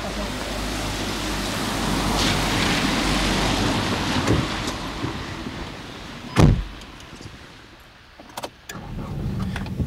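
A car door is opened and shut as someone gets into a car, a single solid thump standing out from a steady wash of outdoor noise, followed by quieter interior movement.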